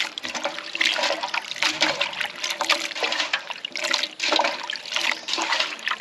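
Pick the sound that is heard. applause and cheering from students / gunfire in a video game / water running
water running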